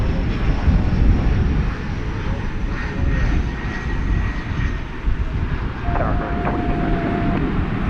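A jet airliner passes at DFW Airport with a loud, continuous broadband engine roar and a steady whine riding above it, dominating the whole stretch without talk.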